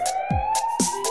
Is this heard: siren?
yes